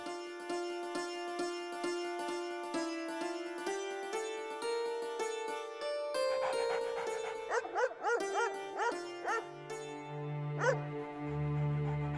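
A dog whimpers and yips in a series of short, high, whining cries over steady background music, fairly close.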